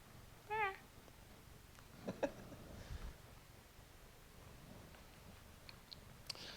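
A rescue cat gives one short, clear meow close by, followed by faint ticks and light rustling in a quiet indoor room.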